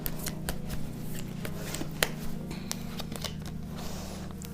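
Tarot cards being shuffled and drawn by hand during a Hindi reading, a steady run of papery riffles and snaps with a sharper card slap partway through, close up over a low continuous hum.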